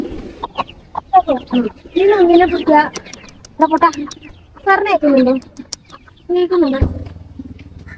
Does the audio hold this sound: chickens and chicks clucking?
yes